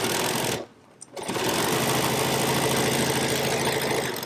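Sewing machine stitching simple hems on fabric face mask pieces, a loud, close, steady mechanical whirring run that stops briefly for about half a second and then resumes continuously.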